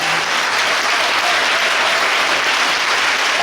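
A church congregation at a women's week celebration breaks into loud, sustained applause, dense and even throughout with no voices standing out.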